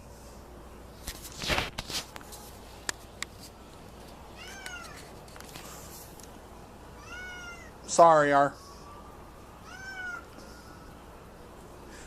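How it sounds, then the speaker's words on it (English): Little cats meow several times at a distance, with one louder, drawn-out meow nearby, amid occasional shuffling and a brief spoken word. "little cats are out in there meowing about everything"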